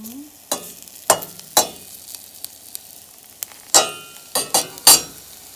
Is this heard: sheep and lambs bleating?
no